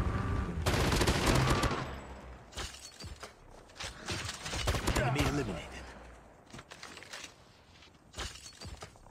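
Gunfire in Call of Duty Mobile, including the Type 25 rifle, rattles in several clustered bursts at moderate distance, with sharp cracks spread across the stretch and faint talk mixed in.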